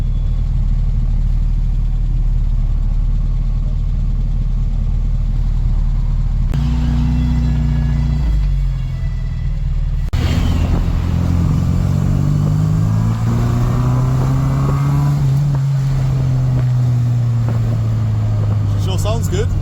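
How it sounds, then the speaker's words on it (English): A car engine drones loudly from inside the cabin, idling low then revving and shifting as the vehicle drives on. "I have to say this car is a lot quieter than it used to be."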